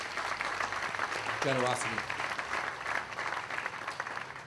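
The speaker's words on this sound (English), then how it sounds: "Another round of applause, please" Scattered applause from a ground-breaking ceremony audience continues steadily at moderate volume, with a speaker's brief words over it.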